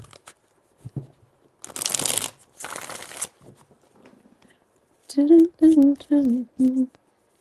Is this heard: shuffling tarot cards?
yes